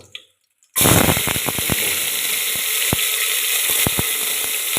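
Raisins dropped into hot ghee in a pan for egg biryani, a steady bright sizzle after a brief quiet start, with scattered sharp crackles and pops close by throughout.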